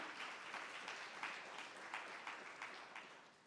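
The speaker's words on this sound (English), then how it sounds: "Please an applause for Emma." Steady applause from an audience, a dense crackle of many hands clapping that holds for several seconds and fades slightly at the end.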